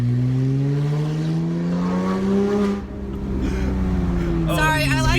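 A Porsche car engine drones loudly from inside the cabin, with pitch climbing then dropping as it shifts, then building again, heard close and steady.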